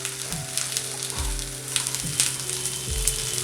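Raisins and cashew pieces fry in a pan over a medium flame while being stirred, giving a steady close sizzle broken by a few scraping strokes of the spoon.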